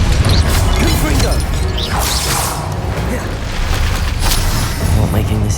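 A spell called Confringo bursts in a video game, a dense booming crash with mechanical rattling that fills the whole stretch at high, steady loudness, layered with game effects and a voice.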